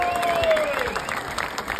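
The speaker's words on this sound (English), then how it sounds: "a massive round of applause for Pat" A crowd applauds Pat at the opening of the County Classics Motor Museum in Taunton, steady clapping with a voice briefly carrying over it.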